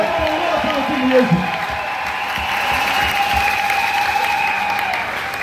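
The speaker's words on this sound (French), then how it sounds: "Nous acclamons très fort pour le Seigneur Jésus." A church congregation applauds and cheers in praise of the Lord Jesus during a Sunday sermon, loud sustained clapping with crowd voices and a few whoops throughout.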